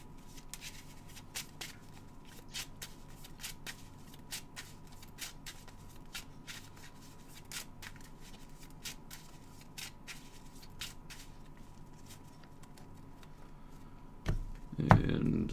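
Cards riffled and bridged during a tabletop card game, a soft steady patter of flicks repeating throughout, with a louder burst of shuffling near the end.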